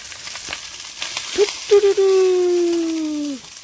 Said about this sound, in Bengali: পেঁয়াজের ডিমটা হালকা ভেজে নিয়েছি আর ফ্রাইড রাইসটা দিয়ে দেবো